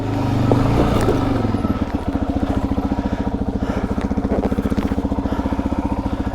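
A Suzuki DRZ400 dirt bike on a trail runs with a loud, close single-cylinder engine, settling into a fast, even chugging pulse after a brief rougher opening.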